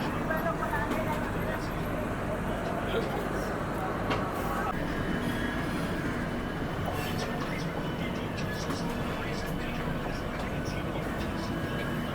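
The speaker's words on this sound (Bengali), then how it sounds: "এই সময় আমাদের ট্রেন ছেড়ে বেরিয়ে যাচ্ছে হাওড়া স্টেশনের 15 নম্বর প্ল্যাটফর্ম থেকে" The Saraighat Express departs Howrah station from platform 15 with a steady, continuous low rumble and faint rail clatter throughout, as a person talks over it.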